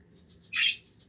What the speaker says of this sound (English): why are you chirping so loud, huh?